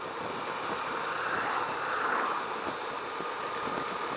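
Husqvarna Svartpilen 401 motorcycle engine while riding, a steady broadband drone with wind rush that swells slightly mid-clip, heard alone without talk.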